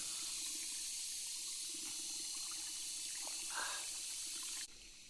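A cup dipped into a small, clear spring in a forest, with faint steady trickling and a brief splash of water being scooped, all quiet and close by.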